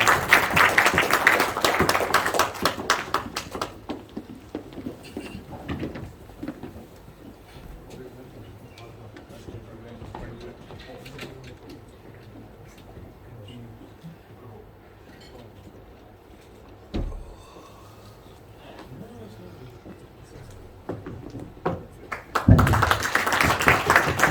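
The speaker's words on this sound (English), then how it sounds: "And a big round of applause there, please." Audience at a North Bangladeshi Cricket Association launch event applauds a partnership plaque presentation, with loud clapping at the start that fades to murmured talk and ambient noise, then swells again near the end.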